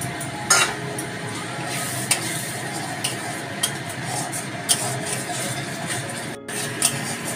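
Masala spice paste being stirred and fried in a pan for mutton curry, a steady close sizzle with sharp scraping stirs and occasional clinks of utensil on metal.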